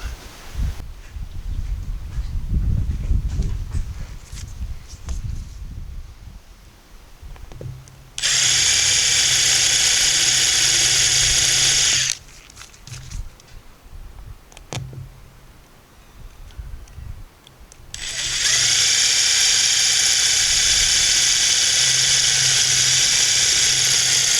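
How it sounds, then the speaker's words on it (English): A power drill whines in two long, steady bursts, drilling into a cracked car windshield, separated by quieter handling noises and shuffling. "go ahead and drill it out to make the hole big enough to accept the resin"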